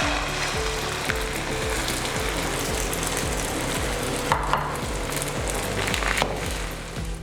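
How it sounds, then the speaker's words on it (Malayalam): Masala omelette mix sizzles and fries in hot coconut oil, a steady, loud crackling hiss that holds evenly throughout, with a few brief clicks near the end and no voices. "നമ്മൾക്കിതിലേക്ക് നമ്മുടെ മിക്സ്,"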